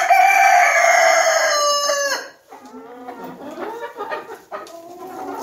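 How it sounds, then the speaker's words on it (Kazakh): Chickens in a warm coop, one rooster crowing loudly and close for about two seconds, followed by softer clucking and squawking from several hens. "Тауықтар осы жерде тұр"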